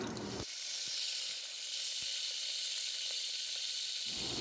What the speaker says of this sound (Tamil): எண்ணெய் காஞ்சிச்சு, கருவேப்பிலை சேர்த்துக்கலாம்.